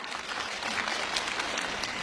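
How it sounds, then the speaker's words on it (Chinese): Audience applause at a Yue opera concert on Lantern Festival night, a dense, steady clapping from a large crowd that holds at full strength for the whole stretch. "来，我们再次用热情的掌声来感谢吴老师的精彩演唱。"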